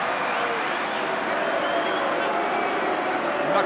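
Rugby stadium crowd at Ulster v Connacht reacting to a red card, a steady loud roar of many voices with whistles and jeers rising across the stands, sustained without a break.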